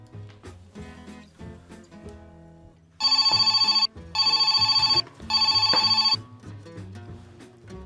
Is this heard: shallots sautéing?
no